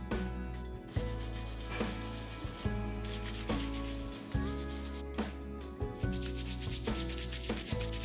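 Soap-and-vinegar-soaked gas stove burners are scrubbed by hand, a steady close rubbing and scouring that continues under background music.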